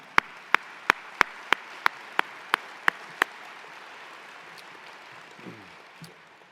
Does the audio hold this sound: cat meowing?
no